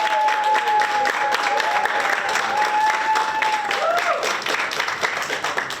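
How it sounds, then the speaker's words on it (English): Applause fills a town hall for a literacy event, a steady wash of clapping with a faint tonal whistle or feedback running through it. "Let's give it a round of applause."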